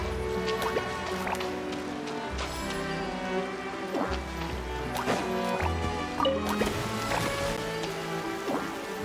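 Water spout splashing in Genshin Impact, a steady dripping and trickling patter that runs throughout at moderate level, mixed with game music tones and occasional soft plucked notes.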